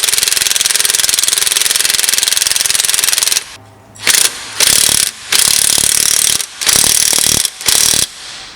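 Ratchet wrench clicking rapidly as nuts are tightened on the rear shock of a 2004 Subaru Impreza GX, a steady run of ratcheting followed by several short bursts separated by pauses, close and loud with no talking.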